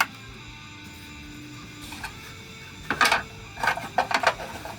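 Adhesive tape is pulled off a roll and pressed on in a workshop with belt grinders, giving a few brief rasping rips near the end over a steady background hum.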